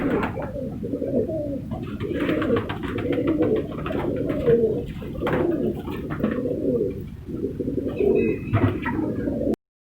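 Shirazi khal pigeons in a breeder's loft give repeated soft, throaty coos in a rolling rhythm, close and fairly quiet, with a few faint chirps in the background.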